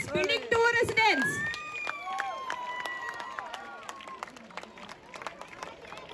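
A crowd applauds residents at an Independence Day celebration in a Bangalore residential city, steady clapping that rises after an announcer's amplified voice and carries on through the rest.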